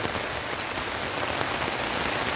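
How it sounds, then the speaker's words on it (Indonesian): Heavy rain falls steadily at a camping ground, a dense continuous hiss of drops hitting surfaces nearby, with no voices. "tapi malah dari tadi nggak selesai nih hujannya, malah makin deres"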